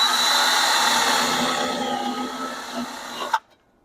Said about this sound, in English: I'm just going to come back here to where the curve ends and drill a hole